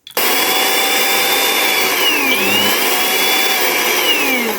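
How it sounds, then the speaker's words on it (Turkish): A 230 volt, 120 watt electric hand mixer runs at speed, a loud, close, steady high-pitched motor whine with a slight dip and rise in pitch midway, starting abruptly and holding constant. "öncelikle çalışan bir mikserimiz 230 volt, 120 watt"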